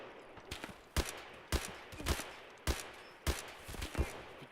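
Gunfire in the video game Escape from Tarkov comes as a run of sharp single shots and short bursts at irregular intervals, fairly distant and faint, with no voices over it.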